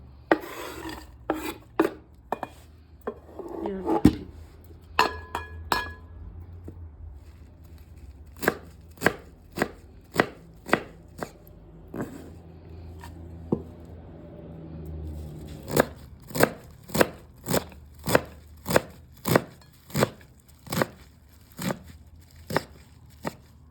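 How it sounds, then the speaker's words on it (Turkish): Steady knife chopping of mountain mint leaves on a board, quick regular strikes in bursts with a short pause of softer rubbing in between; close and crisp, no talking. "Şöyle çok küçük de değil, orta boyda doğruyoruz arkadaşlar."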